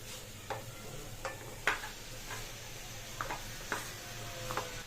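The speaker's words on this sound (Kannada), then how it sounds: "ಮಟನ್ ಜೊತೆಗೆ ಒಂದೆರಡು ನಿಮಿಷ ಚೆನ್ನಾಗಿ ಫ್ರೈ ಮಾಡ್ಕೊಳ್ಳಿ" Pieces of mutton fry in a pan with a faint, low sizzle, punctuated by soft, scattered clinks of a stirring spoon, with no voices.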